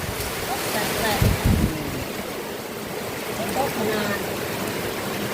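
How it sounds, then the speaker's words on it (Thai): Steady rain pours down outdoors as a continuous broadband hiss, with a brief low voice rising over it early on. "ฝนตกฝนตกเนาะ"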